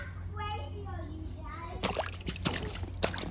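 A toddler girl splashing in bath water, with a few sharp slaps and sloshes near the end after a stretch of a voice and adult talk.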